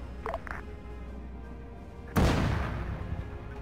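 A single heavy tank cannon blast in a Gulf War tank game booms abruptly after a quiet stretch of low engine rumble, then decays into a long rolling tail.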